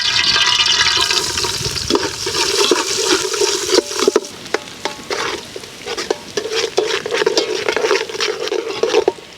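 Onions tossed into hot oil in a pan for a street-style mushroom masala, giving a steady sizzling hiss with scraping and stirring clatters throughout, close and fairly loud.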